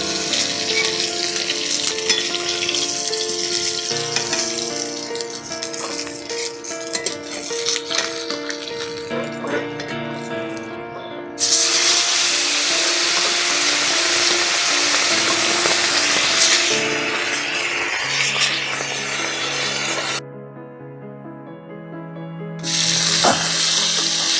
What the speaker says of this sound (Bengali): বেশি লাল লাল করে ভাজবো না এমনভাবেই ভাজবো